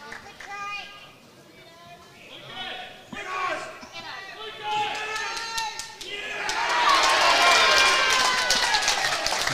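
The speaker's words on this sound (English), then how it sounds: "You can hear the noise from the crowd." Spectators at a lawn bowls semi-final, Richmond Union against Whittlesea, with scattered voices and calls at first, then a broad, loud swell of crowd cheering and applause building over the final seconds.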